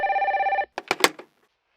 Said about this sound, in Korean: 아마 이런 전화 받아보신 분들 있으실 거예요